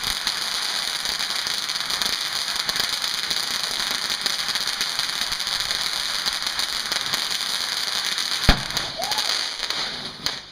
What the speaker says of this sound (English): Here, put a rocket in there, but tube. Yeah. We're gonna launch some now.